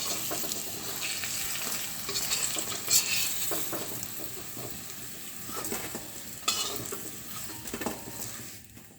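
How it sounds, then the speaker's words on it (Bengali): Lentil dhoka cakes fry in hot oil with a steady low sizzle, broken by a few louder spatula scrapes and clinks against the pan, close and fairly quiet. "এইভাবে সবকটা ধোঁকা আমি ভেজে তুলে নিচ্ছি"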